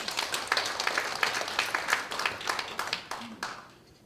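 An audience claps for a lecturer, Professor Kim Deok-gyun, at a lecture on filial piety, a dense run of hand claps that stays lively before tapering off toward the end.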